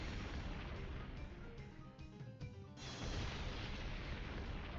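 A rumbling Earthquake attack from Pokémon XD roars as a steady, loud broadband boom for several seconds, with a sharp cutoff and resurgence near the end, no voices over it.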